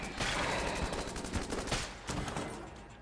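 Rapid automatic gunfire from the rad gun in the video game Enter the Gungeon, a dense loud stream of overlapping shots with sharp bursts throughout, no talking.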